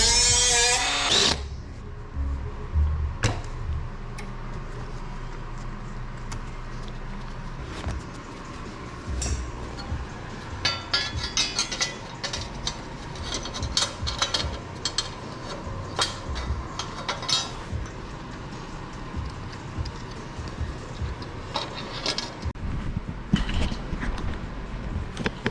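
A chunk of scrap metal is cut into a mounting tab for a fat-tire motorized board track racer bicycle build. Intermittent tool whirring mixes with scattered metallic clinks and knocks in a workshop, with no speech.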